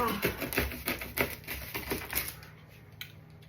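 Pizza being cut with a knife straight on a worn kitchen tabletop, heard as a fast run of sharp tapping and crunching cuts that slows and fades over a few seconds, with faint background hum.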